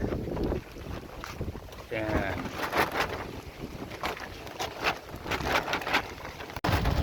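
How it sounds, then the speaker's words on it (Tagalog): Strong gusts of wind buffet the microphone in loud, uneven bursts, with a brief voice and some clattering underneath. "malakas ang hangin"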